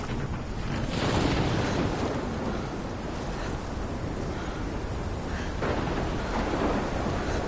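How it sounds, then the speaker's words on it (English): A thunderstorm rumbles in the video game Life is Strange, with steady heavy rain and wind and low rolling thunder swelling in the background, loud and continuous throughout. "Seen a storm like this in Oregon."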